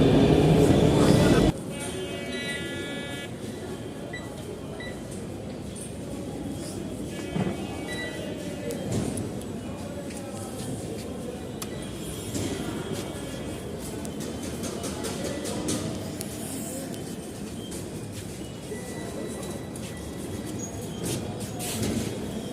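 Metro train at a busy station platform, a steady rumbling hum of the train and crowd with a brief louder burst at the start, faint voices mixed in.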